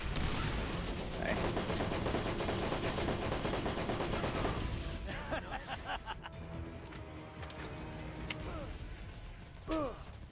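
Gunfire in the video game Borderlands, dense rapid bursts of shots for several seconds, then scattered single cracks over game ambience, with a player's voice faintly present.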